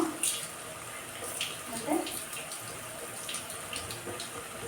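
Rice being washed in a pot of water and drained, with soft splashing and trickling, a few louder sloshes near the start, and a voice speaking briefly over it.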